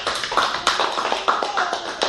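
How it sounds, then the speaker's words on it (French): A few people clap in a church celebration in Casablanca, Morocco, with scattered, uneven claps and hand taps spread over a couple of seconds rather than full sustained applause. "Applaudissez pour Emmanuel là."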